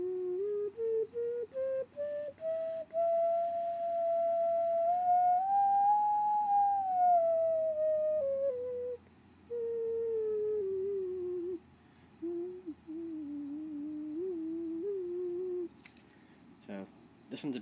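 A ceramic ocarina with an ancient jasper glaze and iron luster plays a slow, pure-toned melody that rises, holds and falls in smooth breathy notes, heard alone and close, with a few clicks at the end.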